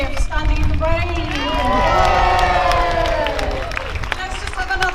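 Outdoor crowd at a peaceful woodland protest in the rain in Sheffield clapping and cheering together, a loud sustained burst of applause with rising voices and whoops, near and steady for several seconds.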